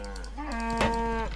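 A cow in the Far Cry 5 video game gives a single long, clear moo with a rising then steady tone, heard close and loud over quiet game ambience.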